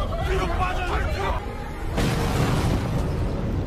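A house explodes in a disaster film set after a major earthquake, a sudden booming burst about halfway through, preceded and followed by agitated voices and background chatter.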